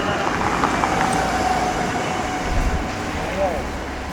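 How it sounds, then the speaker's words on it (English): A train pulls out of Zermatt station in the Swiss Alps, producing a steady broadband rumble of wheels and carriages at close range, with a faint squeal and some voices in the background. "This is our train."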